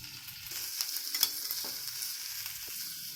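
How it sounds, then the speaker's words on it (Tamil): Chopped vegetables sizzling in a hot pan with sautéed onions for kodo millet kichdi, a soft continuous hiss with occasional stirring scrapes and clinks, fairly quiet. "கட் பண்ணி வச்ச காய்கறியை சேர்த்து வதக்கலாம்"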